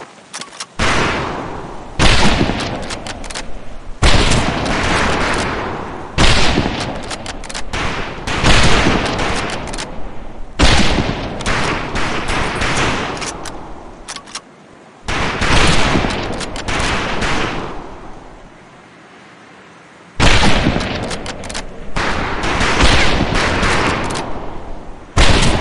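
Rifle gunfire at boot-camp targets in the World War II game Medal of Honor Pacific Assault: sustained loud volleys of rapid shots in long bursts with brief pauses between them, close and dense, with no voices.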